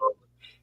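Two short croaks from a frog, close and fairly clear, the first lower and stronger, the second a higher faint chirp against a quiet low hum.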